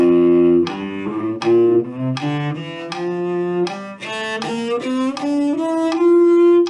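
A bowed cello plays a slow ascending scale, one sustained note after another, close and clear with no talking.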